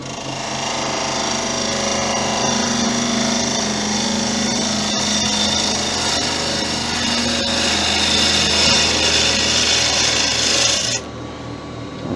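A bowl gouge cuts spalted sycamore spinning on a wood lathe, a loud, steady rasping scrape that runs unbroken for several seconds before stopping abruptly near the end.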